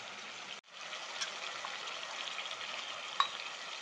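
Mushrooms being stirred with turmeric powder in a pan for mushroom biryani, giving a steady low sizzle with soft scraping, one brief click near the end, and no talking.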